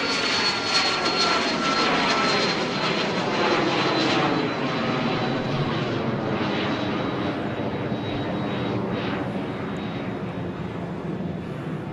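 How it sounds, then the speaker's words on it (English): A Boeing 737-800 jet roars overhead on final approach at Dallas Love Field at night, a loud, sustained engine rumble with a faint high whine that slowly eases. "737-800 is on final approach to 3-1 right."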